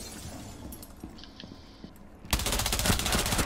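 Gunfire in the Rainbow Six Siege video game: quiet clicks and small sounds at first, then a sudden loud burst of rapid automatic fire that continues to the end, no talk.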